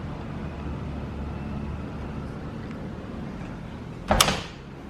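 Balcony doors in a Florence apartment, with a steady background hum followed by one brief, sharp clunk of a door being moved near the end.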